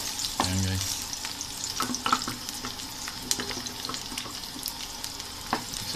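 Garlic sizzles steadily in a hot pan as the first step of a kare-kare with beef oxtail. The frying crackle is continuous and close, with occasional sharp clinks from stirring utensils and no voices.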